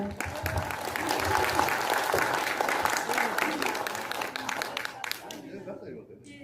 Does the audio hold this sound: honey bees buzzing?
no